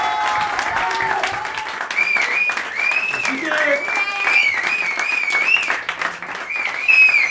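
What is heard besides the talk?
theatre audience applause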